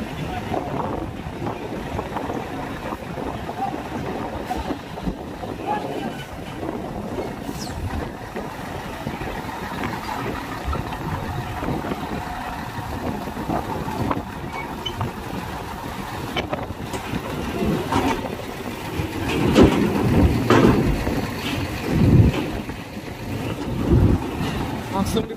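Strong wind buffets the microphone at Merak ferry harbour, a steady roaring gust with boat engine rumble beneath, swelling louder toward the end; a voice speaks faintly in the background.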